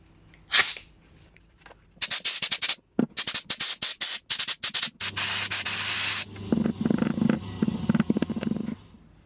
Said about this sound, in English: I'm going to have to fire up my air compressor and see if we can shoot them out